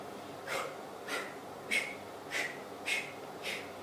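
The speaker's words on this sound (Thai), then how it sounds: "หายใจตลอดเวลา อย่าหยุดหายใจนะคะ" Heavy breathing during an abs workout: five or six sharp, forceful exhalations at a steady rhythm about every 0.6 seconds, close and fairly quiet.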